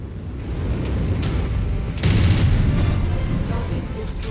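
In MechWarrior 5, weapon fire destroys a small turret, heard as rumbling booms and explosive bursts over steady battle noise, with one louder blast near the middle.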